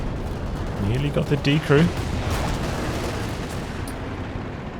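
Machine gun fire and heavy artillery booms in the World War II strategy game Company of Heroes 2, a dense loud battle wash under a voice commenting briefly.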